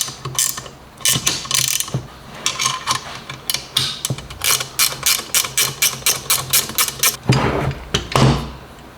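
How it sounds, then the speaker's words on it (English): A ratchet tightens the brake caliper bolts on a Crazy Cart XL go-kart, clicking in quick, loud bursts that settle into an even run of sharp close ticks before a final flurry. "Last but not least, tighten up your brake caliper ones."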